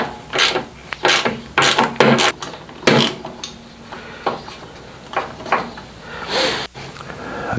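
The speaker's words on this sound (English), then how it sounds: "I am going to take the license plate bracket off. It's a 10mm for those 3 bolts." Ratchet loosening three 10mm bolts on a motorcycle license plate bracket, giving clustered bursts of sharp metallic clicks and clacks, close and fairly loud, with short pauses between them.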